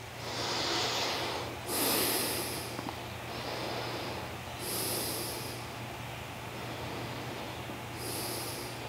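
Slow, forceful yoga breaths drawn through the nose during a stretching session, heard close as a few separate hissing rushes of air spaced several seconds apart against a faint steady hum.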